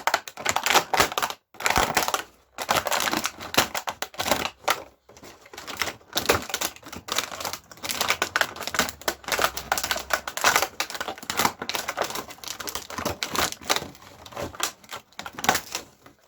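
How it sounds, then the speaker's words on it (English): A sharp blade cuts chunks out of scatter terrain material, producing rapid, irregular crunching and snapping bursts close up, continuous and busy, with no talking. "all I'm going to do is take a sharp blade, okay, and start cutting chunks of it out"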